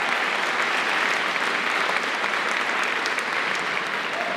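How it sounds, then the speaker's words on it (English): Sustained, dense applause from an audience at a Class of 2024 school honors event, steady and fairly loud throughout with no break. "That is worth a clap."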